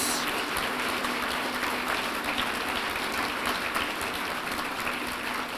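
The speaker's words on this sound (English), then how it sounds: "What about a round of applause for all of the people who entered and our winners?" Steady, sustained applause from an awards-night audience honouring the Mindful Money Awards 2022 entrants and winners, a dense wash of clapping that holds at an even level throughout with no talk over it.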